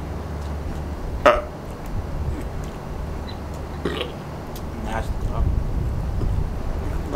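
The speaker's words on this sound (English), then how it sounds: "Hiccup, y'all." A person hiccups while eating a giant pizza, giving a few short, sharp throat catches spread across the stretch, with background noise and some wind rumble.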